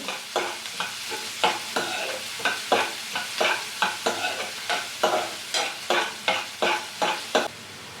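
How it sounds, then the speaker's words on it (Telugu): Green chilli pieces and onion fry in a pan as a carrot rice base is started, with steady sizzling and regular clacking strokes of a spatula stirring, close and fairly loud, no talking. "ఇందులోనే కొంచెం మిర్చి ముక్కలు మనకి ఆనియన్ కొంచెం ట్రాన్స్పరెంట్ అయ్యే వరకు ఫ్రై చేసుకుంటే సరిపోతుంది"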